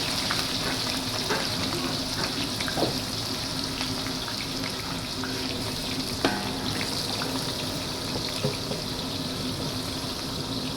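A large batch of onions, about 1.2 kg for 3 kg of chicken biryani, sautés in a pan with a loud, constant crackling sizzle and occasional small pops, close up and without speech.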